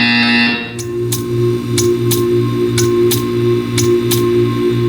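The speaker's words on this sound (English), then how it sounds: "You will hear a buzzer." An electronic buzzer sounds in the video game Portal 2, a loud steady droning tone with regular sharp clicking pulses repeating about every half second over a low mechanical hum.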